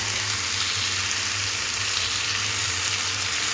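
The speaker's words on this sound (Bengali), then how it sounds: "আলু আর কুমড়োটা খুব ভালো করে ভাজা হয়ে গেলে এর মধ্যে দিয়ে দেবো আদা আর জিরে বাটা" Potato and pumpkin pieces fry in oil with ginger and cumin paste, making a dense, even, continuous sizzle heard up close with no other sounds.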